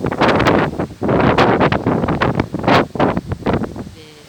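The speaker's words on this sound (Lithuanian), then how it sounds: "Vėjas." Gusty wind sweeps through birch trees outdoors, loud rushing bursts that rise and fall in waves, buffeting close to the microphone before easing off.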